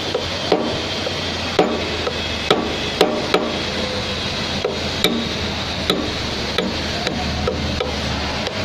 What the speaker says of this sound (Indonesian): Setelah dibuka, kita kendorkan bagian lock nut.